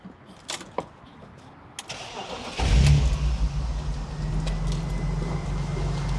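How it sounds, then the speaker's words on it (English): A BMW engine, from either an E34 540i or a Z3, cranks and catches around the middle, then settles into a steady, loud low rumble, with a few clicks and faint movement beforehand. "now here goes the startup sound"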